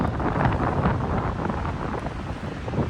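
Strong wind blasts against the microphone in a continuous loud roar, gusting unevenly with no voices.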